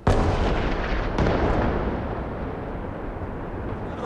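Heavy booming blasts from strikes on homes in Gaza roll out one after another, a deep sustained rumble with a sharp fresh burst partway through, loud and continuous with no voices.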